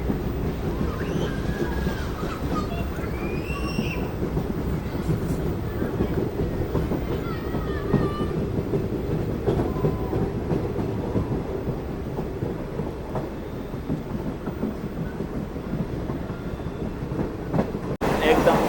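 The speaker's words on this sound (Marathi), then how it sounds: "आणि आता रेल्वे चाललेली आहे निवाष्टीकडं अहमदनगरकडं" A passenger train running from Beed Amalner toward New Ashti, with a steady, loud rumble of wheels and carriage noise throughout, brief squeals and rattles above it, and a voice talking over the motion.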